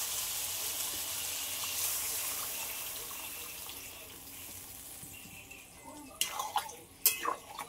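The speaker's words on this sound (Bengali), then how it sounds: "এবার জল দিয়ে দেবো" Water poured into a pan of sautéed vegetarian soybean, potato and brinjal curry: a soft steady rush, then a few sharper splashing bursts near the end, with no talking.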